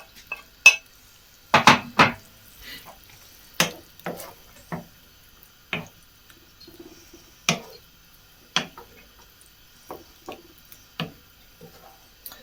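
Lamb goes into a pot of flavourings during bulk cooking, heard as a string of separate metallic clinks and scrapes of utensils against cookware, irregular and close, with quiet gaps between.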